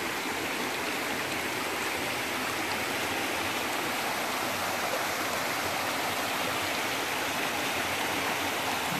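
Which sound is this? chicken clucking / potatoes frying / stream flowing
stream flowing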